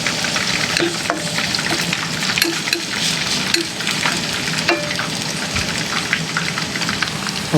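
Two kinds of onion frying in oil in a pan for sarciadong tilapia, a steady, close, loud sizzle with crackling pops and occasional stirring, with no talking.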